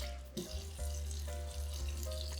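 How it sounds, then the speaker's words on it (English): Water splashes and trickles onto a glass plate used as a base for a sharpening stone, a continuous wet hiss over a low steady hum, with a few small knocks. "Get a bit of water"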